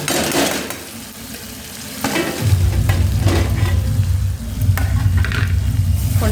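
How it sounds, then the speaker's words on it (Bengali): Paneer sautéing in hot oil for chilli paneer, a steady loud sizzle that swells partway through as the pieces go in, with occasional scrapes and stirring clinks of a spatula against the pan. "পনিরটা দিয়ে এবার একটু কষিয়ে নেব।"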